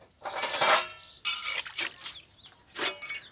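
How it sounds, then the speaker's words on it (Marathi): Dishes being hand-scrubbed at a home sink, with bursts of scraping and clattering pot and utensil noise coming in uneven, close rhythmic strokes, separated by short pauses and a few faint chirpy squeaks. "घासती आमची भांडी"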